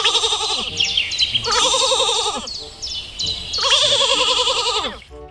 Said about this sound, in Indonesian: Yuk, keluarlah seekor kambing.